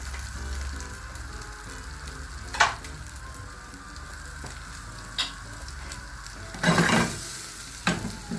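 Chicken browns in oil with ginger in a pan for chaufa, a close, steady sizzle broken by several louder scraping stirs and spatters, with no voices.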